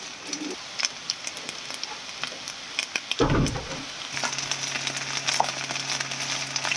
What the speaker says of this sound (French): Et on va venir déposer notre riz sur la poêle